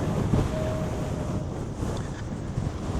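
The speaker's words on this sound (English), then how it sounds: "It's quite windy up here, I gotta be honest." Strong wind buffets the microphone while riding a dual-motor electric scooter, a continuous low rumbling roar with gusty swells throughout, no voices.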